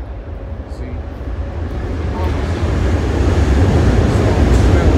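A train rumbles past in Mott Haven, New York City, with a heavy low roar that grows steadily louder over a few seconds, broad and continuous like railcars rolling nearby.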